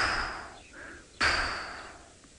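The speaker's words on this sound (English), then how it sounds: "as the red-billed buffalo weavers call" Red-billed buffalo weavers call at dawn on a safari drive, giving two loud, harsh bursts that each fade away, the second sharper and more sudden, with quiet bush ambience between them.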